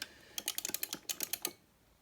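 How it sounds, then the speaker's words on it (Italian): Micro switches on a HORI Fighting Stick Mini arcade joystick click in a quick burst of about a dozen crisp, close taps, then stop and leave quiet. "Il click dei micro switch a me piace molto, molto preciso"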